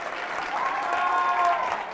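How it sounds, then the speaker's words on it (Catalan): Studio audience applause on a Catalan TV quiz show for a school team, a steady wash of clapping with a tonal voice or whistle-like line riding over it in the middle. "Molt bé, aplaudim, aplaudim."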